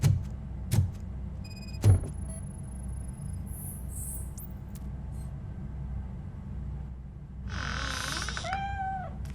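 A cat meows twice near the end in the Robocop: Rogue City video game, fairly close and clear over a low ambient game hum, after a few soft thumps early on.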